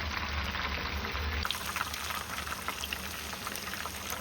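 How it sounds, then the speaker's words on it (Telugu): Chicken pieces frying in hot oil, with dense bubbling and crackling sizzle running steadily throughout, close and fairly loud, with no talk. "ఇప్పుడు ఈ ఆయిల్ మీద మొత్తం బుడగలు బుడగలు వస్తుంది కదా"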